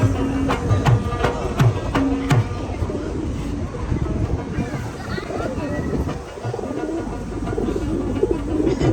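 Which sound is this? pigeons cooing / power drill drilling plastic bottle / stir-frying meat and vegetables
pigeons cooing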